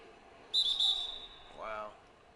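Referee's whistle in an NBA 2K basketball video game, one sharp shrill blast of about half a second over quiet arena ambience, followed by a short voice.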